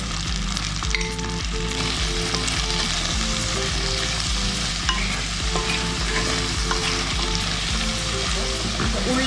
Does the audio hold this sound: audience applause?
no